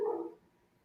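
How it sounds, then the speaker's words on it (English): Dogs bark in the distance, one faint single bark that quickly fades into quiet. "Hopefully those dogs aren't too loud."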